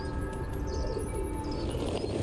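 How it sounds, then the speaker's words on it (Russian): Pigeons cooing in a city scene of the video game Stray, a soft steady murmur of coos and small chirps over constant ambient background noise, with no one talking. "Голуби, голуби, голуби."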